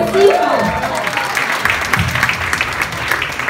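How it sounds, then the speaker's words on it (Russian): Audience applause at a children's recitation evening in a talent school, broad steady clapping from a crowd filling the room, with a voice briefly heard over it near the start. "Аплодисменты нашему прекрасному жюри."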